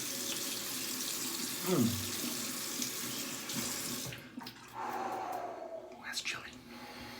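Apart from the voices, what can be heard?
cold water running from a tap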